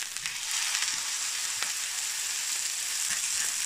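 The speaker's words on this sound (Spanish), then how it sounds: "Calentamos una sartén y echamos aceite de oliva. Vamos a hacer nuestro entrecot vuelta y vuelta." Beef entrecôte steak searing in olive oil in a hot pan, giving a steady, bright, crackling sizzle with small pops, continuous and close, with no talking.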